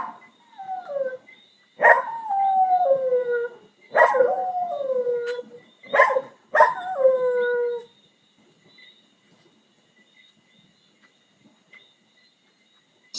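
A scared dog gives several long, falling howls in a row with short breaks, loud and close, then goes quiet for the last few seconds.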